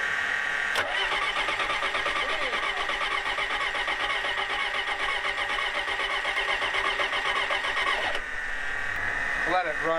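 A cheap L555 skid loader engine cranks steadily for several seconds, then catches and settles into a running idle, loud and close, with voices briefly heard near the end.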